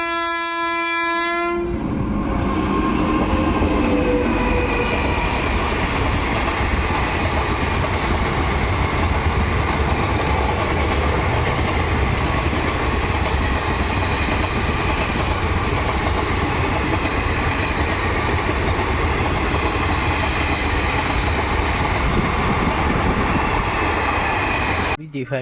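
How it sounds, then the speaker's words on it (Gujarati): A train passes a closed railway crossing, opening with a loud horn blast and then a long, continuous rumble and clatter of cars rolling by close at hand. "આવે હવે રેલગાડી."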